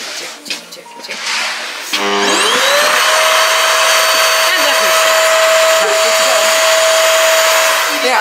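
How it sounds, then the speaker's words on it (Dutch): A household vacuum cleaner starts up after a couple of seconds of faint background noise and then drones steadily, loud and close, with a high-pitched whine until the end. "Ja, kijk, ik heb er een stofzuiger voor."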